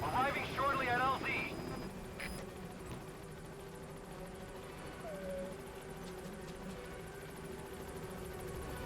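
Helicopter arriving at a landing zone in Metal Gear Solid V, a steady distant rotor rumble droning under a brief radio-style voice at the start.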